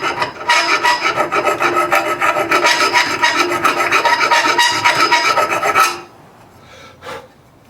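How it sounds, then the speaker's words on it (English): Half-round file rasping across a steel track fork dropout, a steady run of close, rough strokes for about six seconds, then a brief faint scrape after a pause. "Little half-round file."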